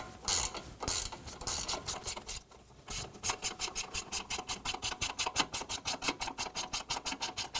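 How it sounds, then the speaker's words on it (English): Ratchet wrench turning a 16mm bolt on an Audi A4 Quattro sway bar link: a few scrapes and clicks, then a fast, even run of close ratcheting clicks, with no talking. "Switch to a ratchet wrench,"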